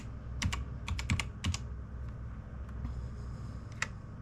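Several quick keystrokes on a computer keyboard, typed in two short bursts close to the mic and then a lone tap later, over a faint steady room hum with no talking.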